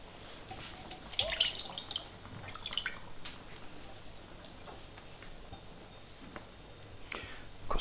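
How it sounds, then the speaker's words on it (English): Water being poured into coconut milk for a Kenyan chicken curry, small irregular drips and splashes in a pot with faint clinks, close and fairly quiet. "even add in some water just so we get every last bit of this out"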